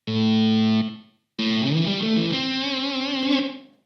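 An electric guitar played through a Korg Nu:Tekt HD-S harmonic distortion pedal gives a fuzzy, spluttery tone: one sustained chord, a brief silence, then a longer buzzing phrase with shifting notes that cuts off abruptly.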